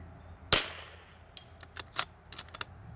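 A .22 LR rifle fires one sharp, loud shot, followed by several fainter, brief cracks and ticks, probably hits on a target fired through tree limbs, spread across a quiet outdoor background.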